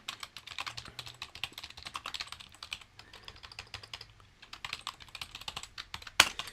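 Close, brisk typing on a computer keyboard, dense runs of key clicks with a short pause midway and a sharp final tap near the end.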